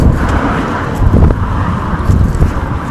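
Cars roll past on a road outdoors, a steady low traffic rumble with a couple of swelling pass-bys, roughed up by wind buffeting the microphone.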